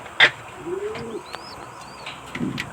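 A racing pigeon gives a soft, low coo nearby during a training toss in Calamba, Philippines, with a few faint bird chirps and a brief rustle around it outdoors.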